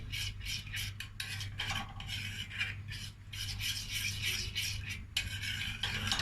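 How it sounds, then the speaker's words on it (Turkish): Repeated scraping strokes of a utensil against a pot as a jelly candy mixture is stirred without pause, in a steady rhythm with brief gaps between strokes over a low hum. "karıştırıp karıştırı hiç karıştırmayı bırakmadan sürekli karıştıralım"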